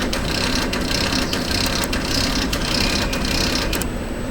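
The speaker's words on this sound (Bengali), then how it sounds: "এই যে সার্ভো ড্রাইভ চালু হচ্ছে।" A Delta servo drive and its motor run continuously with a loud, steady mechanical whir and faint ratcheting ticks, heard up close and alone.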